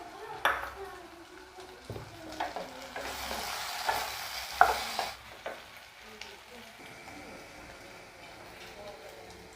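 Potatoes and pointed gourd fry in a pan under a soft sizzle, broken by repeated utensil scrapes, clinks and stirring knocks, with a louder burst of frying midway.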